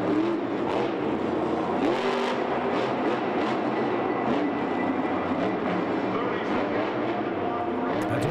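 El Toro Loco, the bull-themed monster truck, roars through a freestyle run, its engine churning loud and continuous with surges of revving, while an announcer talks over the din.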